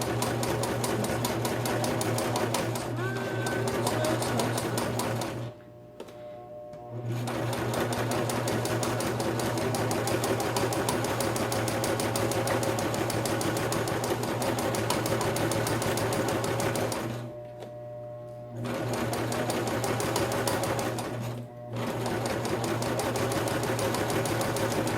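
A domestic sewing machine runs steadily, stitching fabric along the edge of a placemat, its fast mechanical chatter continuous and close, with two brief pauses where the motor stops before resuming.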